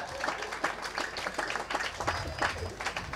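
An audience claps in a brief, fairly distant burst, uneven individual claps merging into a soft patter of applause.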